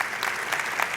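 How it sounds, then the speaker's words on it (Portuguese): Brief burst of audience applause at a talk by a barber, entrepreneur and writer, a full, even patter of many clapping hands at close to moderate distance. "Salva de palmas aí para a dona Lisa"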